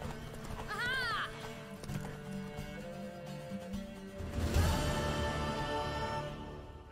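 A horse in the video game Witcher 3 neighs shrilly, then gallops with rhythmic clip-clopping hooves against a game music background, its hoofbeats growing louder near the end.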